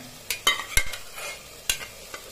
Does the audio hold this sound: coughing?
no